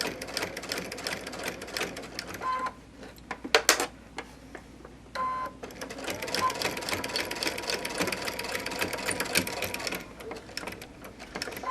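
A sewing machine stitching a quilt, running in bursts of rapid mechanical ticking that stop and restart, close and moderately loud, with a person talking between runs.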